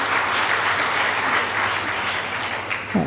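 A church congregation applauds steadily during a Taiwanese-language service welcoming new members, a dense even wash of many hands clapping throughout at moderate volume, with no talk over it.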